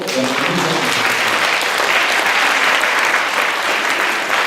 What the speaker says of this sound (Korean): 리더들, 엘더들, 국장관들 수고한다고 여러분 격려의 박수로